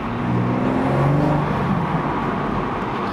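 A BMW M140i drives with a steady, loud engine drone filling the cabin, its intake flutter riding over the continuous road and motor noise with no talking.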